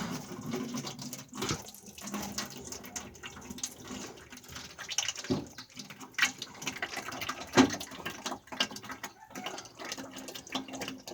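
Clear water draining steadily from an opened filter plug on a motor and hydraulic system, a continuous splashing trickle with a few brief knocks and handling sounds.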